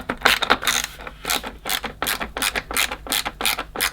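Small Phillips screwdriver tightening the supplied screw on a Samsung vacuum charging station, a series of rapid ratcheting clicks in short irregular bursts, close up.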